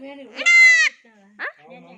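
A goat kid born a day earlier in a village gives one loud, close, quavering bleat, followed by a short, quieter cry against otherwise quiet surroundings.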